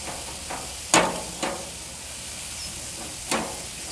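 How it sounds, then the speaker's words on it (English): Vegetables get stirred in a hot cooking pan, a soft sizzling bed broken by a few sharp scraping clatters of a utensil against the pan, spaced irregularly. "So I'm gonna stir my vegetables."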